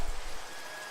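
Rain in the blocky sandbox game Minecraft gives a brief, dense hiss of falling drops, steady and moderately loud with no other sounds.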